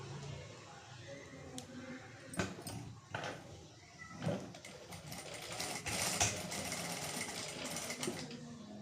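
A sewing machine stitches a folded quarter-inch hem on a straight-cut pant, giving a quiet, uneven mechanical whir in bursts. Sharp knocks and handling clatter break in between the runs, and no one speaks.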